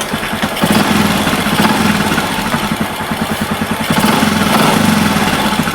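A Honda Karisma X motorcycle engine with no battery fitted runs at a steady idle just after starting, its close, loud, even putter thrumming continuously throughout.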